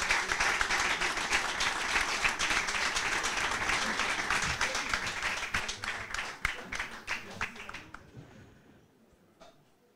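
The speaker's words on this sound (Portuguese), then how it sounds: "Uma salva de palmas para ele." A late-night talk-show audience applauds an interview guest with full, lively clapping that thins into scattered individual claps and fades out near the end.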